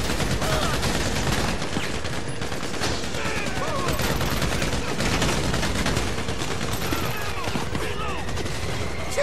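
Gunfire striking the player during a bank heist in GTA V, dense and continuous shots and impacts at loud volume throughout, with game voices mixed in.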